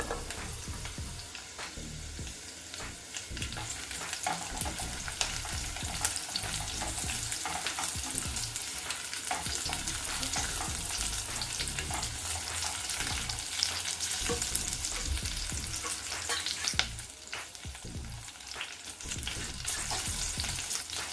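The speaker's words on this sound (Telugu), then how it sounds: "ఉల్లిపాయ ముక్కలు మనకు కొంచెం బ్రౌన్ కలర్ వచ్చే వరకు వేయించుకోవాలి" Onions and green chillies fry and get stirred in a pan for a jackfruit-seed biryani, a steady close sizzle with scraping stir strokes throughout and no talking.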